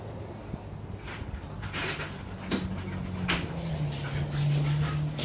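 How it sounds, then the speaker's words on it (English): Frisky dogs whimper and give a few short yips and barks indoors at moderate distance, with a rising whine near the end over faint household noise. "And my dogs are getting all frisky."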